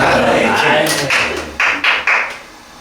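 A few sharp claps ring out in a classroom during a chemistry lesson, three or four distinct smacks near the end following a stretch of talk.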